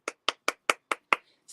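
An applause sound effect made of six crisp, evenly spaced hand claps, close and dry, followed by a brief trailing sound with no talk.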